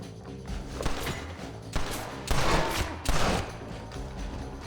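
Several gunshots in Red Dead Redemption ring out over a steady game soundscape, with a few loud broadband bursts spaced across the moment and the heaviest blasts landing near the middle.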